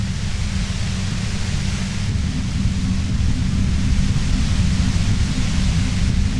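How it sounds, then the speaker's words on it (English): Steady, dense white-noise static from the video game Disco Elysium hisses without a break, loud and constant, with a heavy rumbling low end and no voices. "If you've got something really important to say, you can do it through the white noise."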